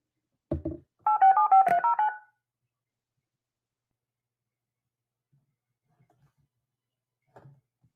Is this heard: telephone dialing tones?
yes